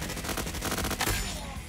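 Rapid bursts of automatic gunfire in the Roblox shooter Frontlines, dense and continuous with overlapping shots at close range, loud throughout with no talking.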